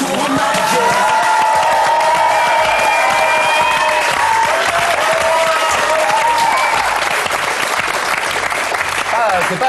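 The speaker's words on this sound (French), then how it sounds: "C'est pas à chaque fois que le clip est applaudi de cette manière-là" A studio audience claps loudly and steadily for a French rap music clip, with sustained tonal music lines and a few voices running underneath the applause.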